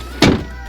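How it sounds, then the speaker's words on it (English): A Mini Cooper S door shuts with a single solid, close thunk, then quiet. "I'm gonna close the door."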